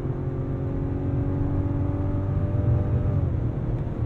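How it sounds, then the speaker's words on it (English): Mazda CX-90 Turbo S engine hums steadily inside the cabin as the driver flicks the steering-wheel paddles, with the engine tones sliding down near the end as a shift occurs; no talking. "let's try out manual mode with the paddles on the steering wheel that are small but have decent travel. and elicit pretty quick shifts."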